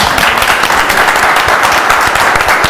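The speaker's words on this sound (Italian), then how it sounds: "Un applauso." A studio audience at a televised singing show breaks into loud, dense, sustained applause, a steady wash of many hands clapping with no pauses.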